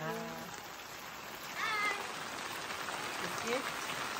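Steady rain patters on a surface throughout, with a brief voice or mewing sound near the start and a faint murmur later.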